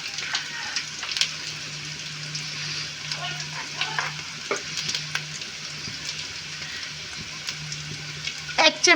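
Chopped cabbage with turmeric, coriander and chili powder sizzling in a frying pan, a steady close fry with occasional stirring scrapes and a low hum underneath throughout.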